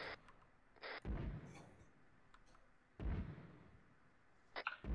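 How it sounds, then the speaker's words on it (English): Mortar rounds land in an Arma 3 military game. Two heavy, low booms about two seconds apart sound at a moderate distance, with sharp radio clicks and small pops between them. "Bro, we got mortars incoming,"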